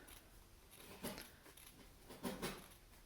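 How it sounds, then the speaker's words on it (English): Regular paper scissors snip through felt pieces, a few soft, close crunching cuts spaced about a second apart, quiet and without talk. "These are just regular paper scissors that I'm using, but depending on the sharpness of your scissors, you might want to use fabric scissors when cutting the felt pieces."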